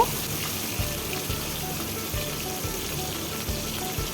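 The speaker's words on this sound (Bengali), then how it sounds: "চিংড়ি মাছটা একটু হালকা করেই ভাজবো" Steady hiss of prawns frying in hot mustard oil, a continuous sizzle with soft rhythmic knocks underneath, close and moderately loud.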